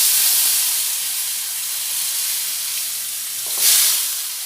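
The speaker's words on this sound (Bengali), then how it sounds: "এবার ওতে দিয়ে দেবো এইভাবে ছোট ছোট ডুমো ডুমো করে কেটে নেওয়া আলু" Small diced potatoes frying in hot oil over tempered spices in a Bengali banana flower dish, giving a steady close sizzle and hiss with a brief louder burst of crackle near the end.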